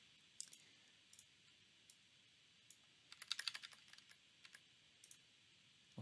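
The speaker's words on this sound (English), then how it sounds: "I'm going to use my arrow keys to move it up" Arrow keys on a computer keyboard pressed while nudging an object in Adobe Animate: scattered single clicks, then a quick burst of taps in the middle, fairly faint and close, with no talking.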